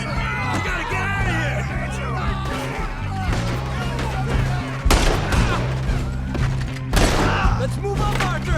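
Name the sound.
gunfire in the video game Red Dead Redemption 2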